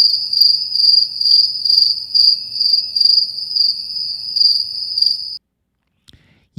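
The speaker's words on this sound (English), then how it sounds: "yup, crickets." Crickets chirping as a sound effect, a loud, even pulsing trill repeating steadily for about five seconds before stopping, then a brief bit of near silence.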